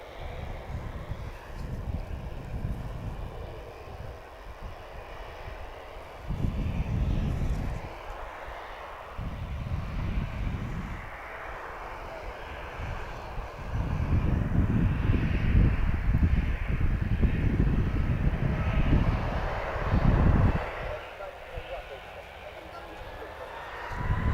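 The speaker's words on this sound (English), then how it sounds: "And the first of those TUIs has just landed. You will see him go behind the EasyJet in just a second." A TUI airliner taxis after landing and passes behind an EasyJet plane, a distant jet engine roar rising and falling under wind noise, with someone talking over it.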